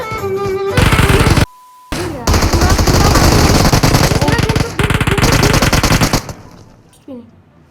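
Gunfire in the mobile video game PUBG Mobile, presented as a shotgun, comes as loud, dense bursts of rapid shots that fill most of the clip, with a brief gap and a tone, then fading at the end.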